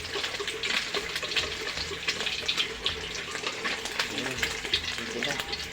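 Eggs frying in a hot pan, a continuous dense sizzle and crackle up close, steady throughout with faint spattering pops.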